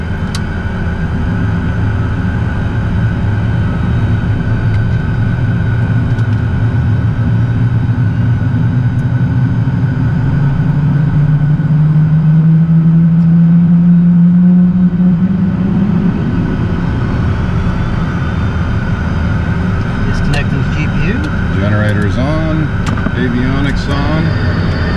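Jet engine number one of a small jet spooling up while on ground power, a steady loud engine roar with a rising whine building through the middle, with people talking over it.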